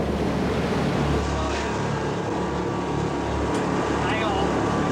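Salcombe lifeboat pounding across the notorious sandbar in rough sea, with a loud continuous roar of engine, wind and crashing water filling the whole stretch.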